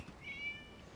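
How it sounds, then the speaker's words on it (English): A single short, faint cat meow from the video game Genshin Impact, heard alone against near silence. "It was just a cat."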